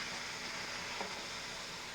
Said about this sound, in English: Brown that steak nicely